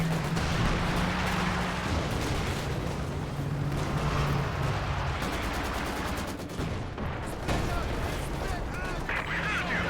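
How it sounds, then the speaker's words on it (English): Artillery shells and explosions in the Company of Heroes 2 battlefield, a dense, loud roar of booms and gunfire rumbling continuously, with a commentator talking over the action. "Those are some multiple explosions here."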